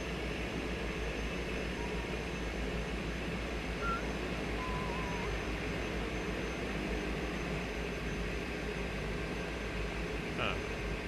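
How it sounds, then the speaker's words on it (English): A Cessna in Microsoft Flight Simulator 2024 takes off from runway 17: a steady, loud engine drone with a constant low rumble runs unbroken throughout, with a faint brief chirp near the end. "taking off runway 17 departure to the south"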